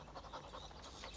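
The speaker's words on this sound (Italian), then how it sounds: "Ti piace il mio cane?" A big dog pants quietly in quick, rhythmic breaths, faint and close, with no talking over it.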